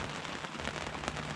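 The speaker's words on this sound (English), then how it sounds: "it's raining quite hard" Heavy rain drums steadily on a boat during a hurricane, a dense, continuous patter close by with no gaps and only scattered louder drops.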